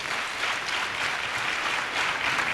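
Steady crowd applause at an opposition party political rally in Benin: dense, even clapping from a large audience that holds at a constant loud level throughout, with no pauses.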